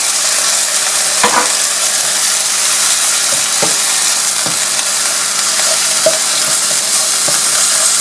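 An egg frying in a pan with spinach rice while it is stirred: a loud, steady sizzle with scattered scraping and clinking knocks of the utensil, close up and without talk.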